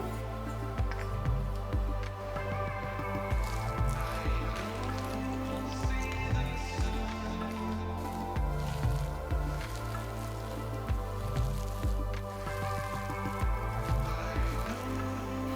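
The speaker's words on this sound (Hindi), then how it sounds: "साबूदाने को आलू के मिश्रण में अच्छे से मिक्स कर लेंगे" Soaked sabudana pearls are worked by hand into a mashed potato mixture for appam, giving soft, wet squelching and squishing sounds that repeat steadily and close up against a constant background hum.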